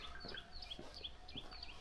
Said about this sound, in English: And there's a lot of wildlife here, at least birds.